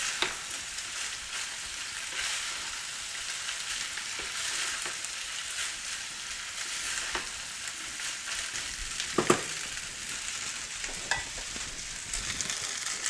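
Rice stir-fried and turned in a hot pan, a steady close sizzle with scraping and stirring clatters from the spatula, no one talking.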